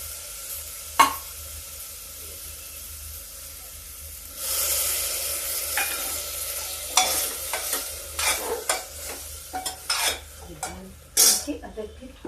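Soaked chana dal sizzles with spices in a pan on a low flame: quiet at first, then a loud frying hiss with repeated sharp spatula scrapes and stirs in an uneven rhythm.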